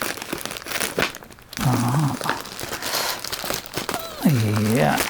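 A green plastic mail bag crinkles and rustles close by as it is cut open with scissors, with a voice briefly sounding over the crackling.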